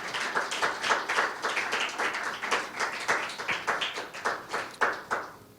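A church congregation applauding for Christ, a close, lively crowd clapping with a rhythmic, pulsing beat, loud and continuous with no talking.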